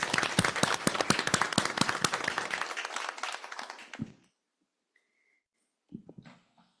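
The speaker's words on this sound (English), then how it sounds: "So please, let's give all of them a round of applause." Dense crowd applause fills a school board meeting room for about four seconds, then stops abruptly, leaving near silence with a couple of faint small sounds and a brief soft rustle.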